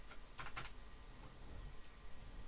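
A few quick taps on a computer keyboard, faint and close, form a short burst of typing followed by quiet room tone.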